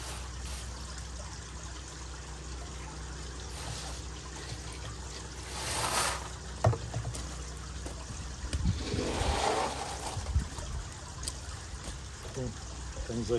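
Water drains out of a koi pond vortex filter as a steady trickling and pouring flow, swelling into a louder gush about two-thirds of the way through, with faint voices underneath.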